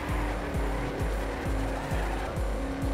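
Car drifting through a turn in Trackmania Turbo, with a loud revving engine and repeated tire squeals sliding down in pitch about every half second, close and continuous with no talk.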